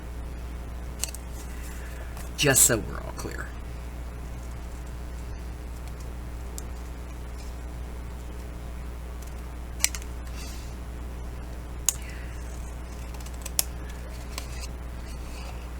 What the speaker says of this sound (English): So I'm just going to cut this one out.